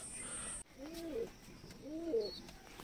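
A yellow-eyed Giribaj pigeon coos twice in a loft, two soft, low, rolling calls about a second apart in an otherwise quiet space.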